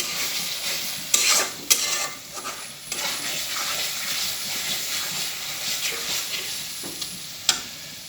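Meat frying with spices in a pan for haleem, a close, steady hiss and sizzle with intermittent scrapes and clinks as it is stirred, no talking.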